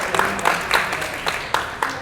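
Scattered, sparse clapping from a small audience at a book presentation, a handful of distinct claps spaced irregularly over about two seconds.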